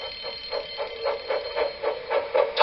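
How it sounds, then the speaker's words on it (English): A loud electronic alarm rings in rapid repeating pulses, steady and insistent, with no voices. "Soon came the alarm."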